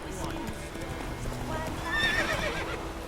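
Roach, a horse in The Witcher 3, gallops with brisk rhythmic hoofbeats and lets out a loud whinny midway, while a person talks over the galloping.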